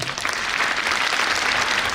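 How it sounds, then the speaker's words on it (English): Dense, steady audience applause fills a conference hall at an international event in Jaipur, loud and continuous throughout with no pause. "Have a big clap."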